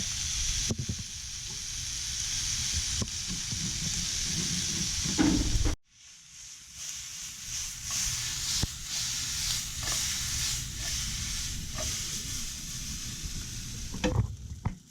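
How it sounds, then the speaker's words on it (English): Onions fry and brown in a pan for vegan mac and cheese, a loud, continuous sizzle and hiss with occasional stirring scrapes, briefly dipping when the pan is moved before the sizzling resumes. "the onions are getting nice and browned"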